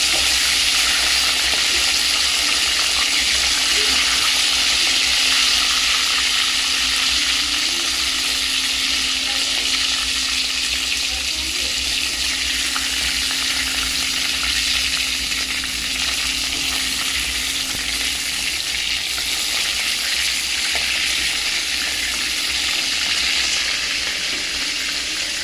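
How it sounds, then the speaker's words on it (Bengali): Chicken pieces deep-fry in hot oil in a home kitchen, giving a continuous, close sizzle with faint stirring, steady throughout with no talking. "এখানে একটু একটা একটা করে সব মাংসগুলো ভেজে নিয়েছি,"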